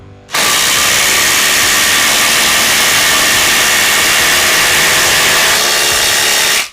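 A FLEX or Ridgid cordless combo drill drives a bolt, a loud, steady, harsh whir that starts abruptly and runs unbroken for about six seconds before cutting off.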